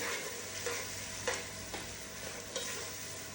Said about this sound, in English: All right, so we'll give it a stir.